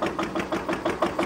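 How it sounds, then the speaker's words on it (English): A vintage gas engine warms up at a steam and gas engine show, chuffing in a quick, even rhythm of about five beats a second. The sound is moderately faint and steady, with no talk. "We'll let the engine warm up a little bit before we put some load on it"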